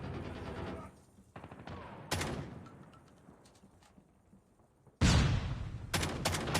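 Gunfire in a fast Call of Duty Mobile match, with bursts of rapid shots: a short volley near the start, another around two seconds, and a loud close burst near the end, separated by quieter stretches.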